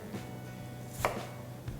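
A single crisp chop of a knife halving an apple onto a board, followed by a softer second cut, in a quiet room.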